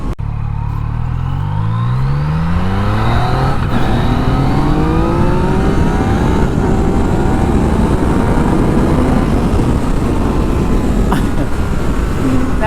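A 2019 Yamaha MT-09 motorcycle engine revs and accelerates hard, its pitch climbing through rising gear pulls under steady loud wind and road roar, no talking.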